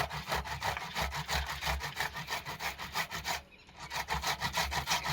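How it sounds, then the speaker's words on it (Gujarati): Tomatoes are grated by hand on a metal grater in a rapid, rhythmic back-and-forth rasp. The close scraping strokes break briefly midway before resuming. "અમારી પાસે તો આ ખમણી છે, તો એનાથી અમે ટમેટા ખમણીએ છીએ"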